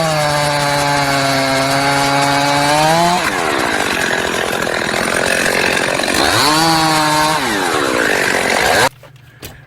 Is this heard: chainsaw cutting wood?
yes